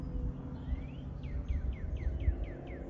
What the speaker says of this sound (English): It's a cardinal.